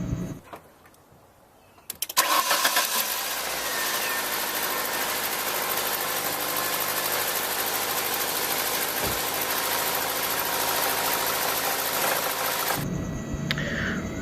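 A car engine running steadily with a knocking fault, starting abruptly after a quiet moment and holding a loud, continuous mechanical roar with rapid irregular rattling for about ten seconds before cutting off.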